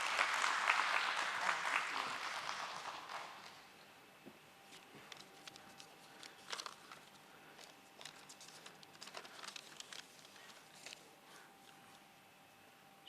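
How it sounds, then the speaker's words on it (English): Audience applause at a stock exchange listing ceremony, a dense burst of clapping that fades after a few seconds into scattered claps and faint room noise. "Let's have a huge, huge round of applause for him."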